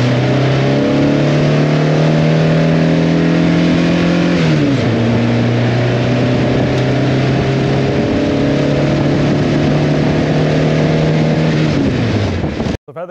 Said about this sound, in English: So here we have a pretty cold engine that is idling at about 1300 RPM